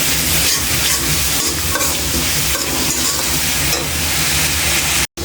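Spices and half a teaspoon of garlic paste sauté in a pan with a loud, dense, continuous sizzle and scraping stir close up, lasting throughout before a sudden brief cutout near the end.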